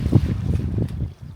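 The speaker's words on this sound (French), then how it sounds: "Trop de vent là." Strong wind buffets the microphone outdoors by the sea among palm trees, a continuous low rumbling roar that dips briefly near the end; no voices.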